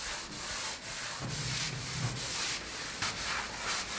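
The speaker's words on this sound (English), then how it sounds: "Paul's just sanding it back" The painted roof of a narrowboat is sanded back by hand between coats, making a steady, close, raspy rubbing in rhythmic back-and-forth strokes with short pauses and no talking.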